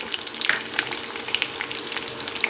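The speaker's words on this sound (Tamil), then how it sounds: "நான் இப்போ கருவேப்பிலை போட்டுக்கிறேன்." Curry leaves and chopped onion sizzle and crackle in hot oil for a South Indian fish curry, a steady close frying hiss dotted with sharp pops and spits, with no voices.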